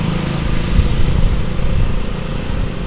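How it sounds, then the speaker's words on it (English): Steady road traffic roaring past outdoors on a busy street, a continuous low rumble of cars and motorbikes with no break, fairly loud and close. "I'm on the road, there's a lot of traffic going on, so you'll definitely hear the traffic noise in the video."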